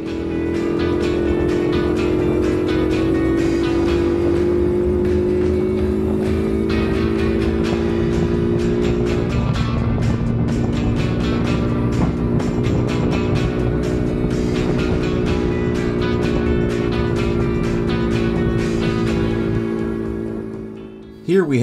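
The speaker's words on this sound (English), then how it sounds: "The mini Jeep was all over the road. Just absolutely terrifying to drive on public streets, actually." A Chinese mini Jeep driving on public streets gives off a loud, steady engine drone that shifts pitch slightly as it goes, holding continuously before cutting off abruptly at the end.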